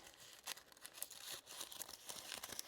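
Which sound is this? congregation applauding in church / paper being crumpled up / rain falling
paper being crumpled up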